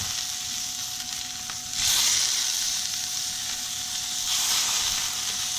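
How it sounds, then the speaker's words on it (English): Oiled sous vide pork chops sear in a hot pan, a close, steady sizzling hiss that swells louder partway through and keeps going without talk. "now we're going to sear them briefly in a hot pan, only on the presentation side"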